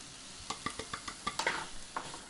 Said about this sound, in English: we're going to saute up some more garlic, the rest of your onions, some salt, of course some oil, and the rest of the paprika